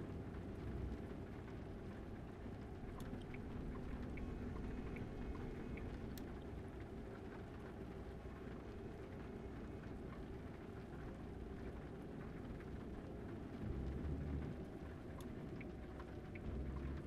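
Steady rain falls throughout in the truck-driving game American Truck Simulator, a constant dense patter with low rumbling underneath, loud and unbroken, with a slight swell near the end.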